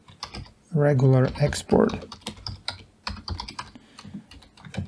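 Fast typing on a computer keyboard, a run of close crisp key clicks in uneven bursts, with someone speaking briefly over the start.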